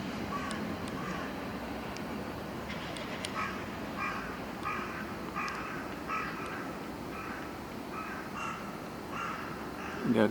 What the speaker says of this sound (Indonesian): Di Jepang ini banyak sekali gagak hitam.